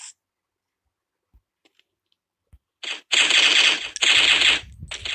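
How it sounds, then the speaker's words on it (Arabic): Rapid bursts of automatic gunfire from the video game Critical Action, starting after a few faint clicks and coming in two loud, sustained volleys with a short break between them. "صوت الطلق كل ما اضرب واحد بيختلف عن التاني"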